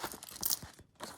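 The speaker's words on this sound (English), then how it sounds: "So let's get them all into that plastic bag." A short burst of close plastic bag crinkling and crunching as buttons are put in, small hard items rustling, with a brief pause before another rustle.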